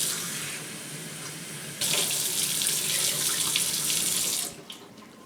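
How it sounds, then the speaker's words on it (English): Tap water runs from a faucet while half a cup is measured for a sourdough starter made with unbleached all-purpose flour; a steady hiss grows into a fuller, louder gush partway through, then cuts off near the end. "we are going to add half cup of water. And I just use tap water."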